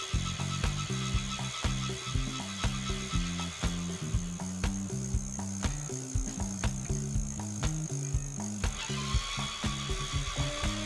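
A small e-bike hub motor (36-volt) whirs steadily with a rapid, rhythmic mechanical clicking and ratcheting, heard up close with no voices.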